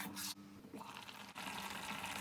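Half a glass of water added to a mushroom tomato curry in a pan, a quiet pour and splash with a couple of brief breaks, no talking.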